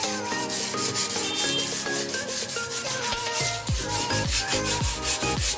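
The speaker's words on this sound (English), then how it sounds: "using a sandpaper, I would try to scrub a bit of the hard part where the watermarks are" A sheet of sandpaper scrubs hard-water marks off the glass of a 50-gallon aquarium tank, making repeated rhythmic rubbing strokes close by over steady background music.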